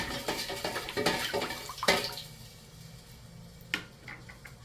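Salted water splashes and trickles into a container of sliced radish kimchi (dongchimi) with a few clinks, loud at first and then tapering to a quieter pour.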